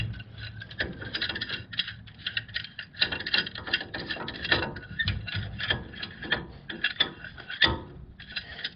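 C-clamp screwed down to force the brake caliper pistons back on a 2010 Ford F-150, giving repeated close metallic clicks, creaks and ratcheting scrapes in uneven bursts, with no talking.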